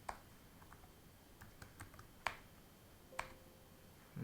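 Keys on a computer keyboard are tapped in a short, uneven burst of light clicks, a few louder strokes standing out against quiet room tone.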